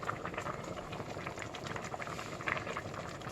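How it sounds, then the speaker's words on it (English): Stew for Fante Fante bubbling at a steady boil in a covered pot, a dense continuous seething and popping with fine crackles, close and unbroken throughout. "So it's boiling, as you can see from all this vapor coming up"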